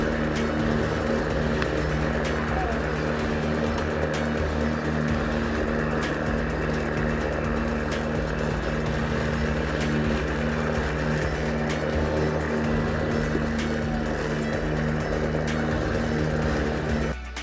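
A Makita DLM532 36V cordless self-propelled electric lawn mower runs across grass with a steady, continuous motor drone and whirring blade hum, close and even in level throughout.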